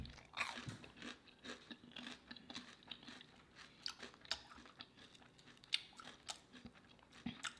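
Crunchy pancake sticks are bitten and chewed, a run of crisp, close crunches and chewing sounds repeating irregularly over several seconds, quiet and intimate with no talk.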